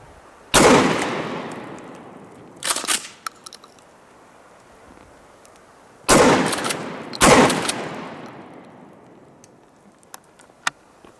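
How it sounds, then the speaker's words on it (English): Kel-Tec KSG 12 gauge pump shotgun fired from about nine yards out: four loud, sharp blasts in two pairs, each with a fast, ringing decay, set against quiet background. "This is the Kel-Tec Ksg 12 gauge shotgun."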